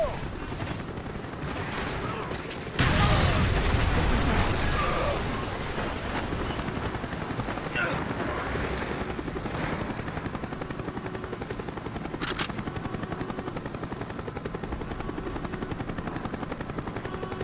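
Military helicopter rotors in Call of Duty Black Ops, a steady loud thrum running throughout, with a burst of heavy gunfire and explosions near the start and scattered combat noise layered over it.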